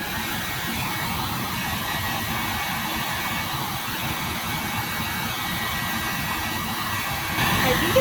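A heat gun blows a steady, even hiss of hot air over a vinyl center console armrest cover on a 2008-2012 Honda Accord, holding a constant level for about eight seconds.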